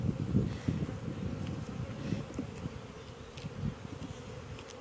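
Honeybees buzz steadily around an open hive during an early summer inspection, a dense continuous drone close to the microphone with a little wind noise mixed in.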